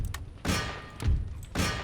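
Cannons fire in Empire Total War with the Darthmod mod during a large Austrian campaign battle: three heavy, booming thuds arrive about half a second apart, each a broad low blast with a short decaying tail, set over a faint rumbling battlefield background.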